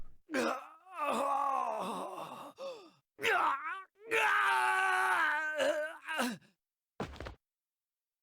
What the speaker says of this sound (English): The recruit fell to the ground with an agonized scream